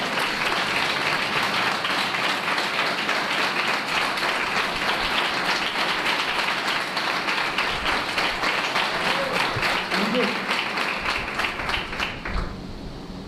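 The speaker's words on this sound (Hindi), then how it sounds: "क्या यीशु मसीह के लिए जोरदार तालियां बजाएंगे?" Vigorous applause from a church congregation during a sermon, a loud, steady wash of many hands clapping that carries on for over twelve seconds before tapering off, with a brief voice near the end.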